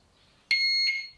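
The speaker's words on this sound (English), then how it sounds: "The burglar alarm works." A motorcycle burglar alarm on a rebuilt GS gives a single sharp, loud electronic beep-tone lasting about half a second, close by, then fading out with no voices.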